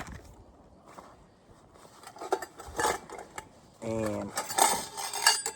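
Metal camping gear clinks and rattles as a camping stove and a fork are handled outdoors, scattered close clatters and scrapes, with a voice speaking briefly.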